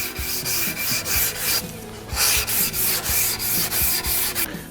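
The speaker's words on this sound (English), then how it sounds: "When you're using your Bowsander, lovely big actions, let the flexibility of the tool work for you." A MacFarlane Bowsander rubbing across wood in long, sweeping strokes, a rhythmic rasping swish repeating roughly every half second, close and clear with no talking.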